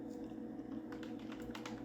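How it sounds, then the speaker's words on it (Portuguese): Rapid, quiet tapping of keys on a computer keyboard, a steady run of soft clicks close by over a low constant hum, with no talking. "Então aqui eu estou digitando"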